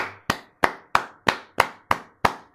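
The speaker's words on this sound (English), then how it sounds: "Got to give that a clap" Seven slow, evenly spaced hand claps ring out close and crisp, each one sharp and quickly fading, with no voices in between.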